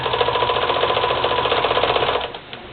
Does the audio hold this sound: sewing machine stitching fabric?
yes